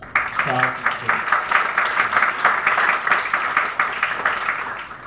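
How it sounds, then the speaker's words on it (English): Audience applause at a school gathering during a principal's speech: a crowd clapping steadily and fairly loudly for several seconds, with a voice speaking over the clapping. "I would like everyone to give them a round of applause."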